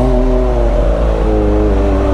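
A Kawasaki ZX25R fitted with an IXIL full exhaust revs loudly up close, its high-pitched engine note holding steady and shifting in pitch, alone without talk.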